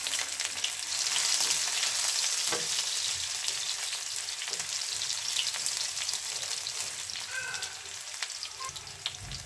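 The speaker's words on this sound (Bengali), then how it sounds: "কিছুক্ষণ নেড়ে চেড়ে হালকাভাবে ভেজে নিব।" Chopped onion and garlic fry in hot oil, a dense continuous sizzle with scattered crackles and the occasional scrape of a spatula as they are stirred, close and steady throughout.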